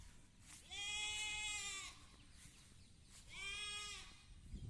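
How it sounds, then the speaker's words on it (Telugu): Two separate goat bleats, each a wavering nasal cry about a second long, heard faintly at a distance with a pause between them. "మేకలు చూడండి"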